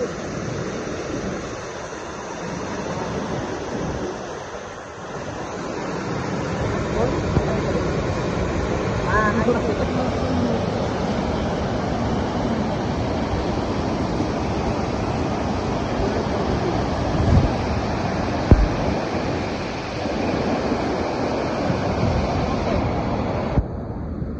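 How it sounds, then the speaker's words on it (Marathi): Heavy water roars out of the Warna dam spillway during ongoing rain, a steady, loud, unbroken rush of broadband noise that stays constant from start to finish with no clear voices. "आता पाहूया सांडगातून बाहेर पडणारे पाणी"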